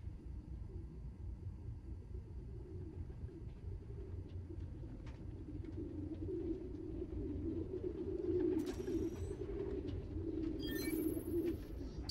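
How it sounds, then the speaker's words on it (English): Pigeons coo softly in a park in the Marvel's Spider-Man: Miles Morales video game, low murmuring calls over a faint rumble of distant traffic, with a few brief fluttering sounds near the end. "There's a lot of birds around here."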